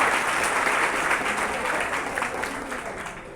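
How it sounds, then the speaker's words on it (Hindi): Audience applause at a community event where bicycles are handed out, a steady wash of clapping from a crowd that fades slightly toward the end, with faint voices underneath. "तालियां बजाइए।"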